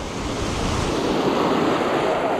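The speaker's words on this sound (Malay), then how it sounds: "Tunggu. Ombak." Ocean surf washing and breaking along the rocky coast of Pulau Weh, Sabang, a steady loud broadband roar under gusty wind noise on the microphone, with no voices.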